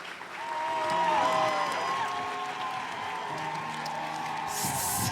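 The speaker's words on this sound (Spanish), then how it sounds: "Quiero que le den un aplauso" Audience applause at a live talk-show taping, a steady wash of clapping that swells early and holds through the whole stretch, with tonal music playing along underneath.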